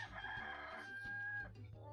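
Chickens cluck and a rooster crows in the 102 Dalmatians: Puppies to the Rescue video game; one drawn-out crow rises over soft clucking, quiet and with no talking.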